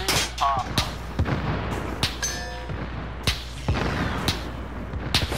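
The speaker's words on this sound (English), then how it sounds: "They're shooting at the fucking helicopter is what they're doing." Gunfire in the Call of Duty Warzone video game, with repeated sharp shots cracking out at irregular intervals, some near and some farther off, alongside game effects and brief background voices.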